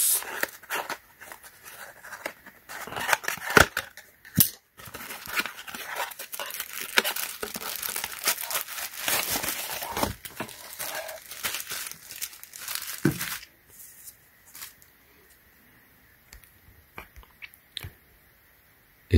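Cardboard box packaging for a Samsung Galaxy Z Flip 4 rugged SUPCASE case and holster being torn open, heard as close crinkling and ripping rustles over about thirteen seconds before the noise quiets to faint handling.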